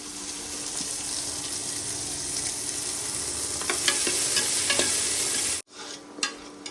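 Sliced onion dropped into hot oil with fennel and cinnamon, a loud continuous sizzle with a few spoon clicks that cuts off abruptly near the end, leaving a brief quieter stretch with a couple of scrapes.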